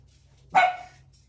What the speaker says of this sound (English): She always has to bark at Jackson.